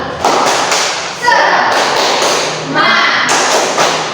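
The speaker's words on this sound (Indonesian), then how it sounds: "Tepuk semangat." A primary school class claps the rhythmic Indonesian 'tepuk semangat' cheer, a loud patter of many hands in two bursts with short pauses between, mixed with children's voices.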